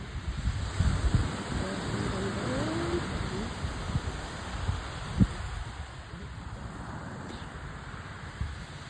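Steady outdoor wind rushes and buffets the microphone, with low rumbling gusts and faint background voices beneath.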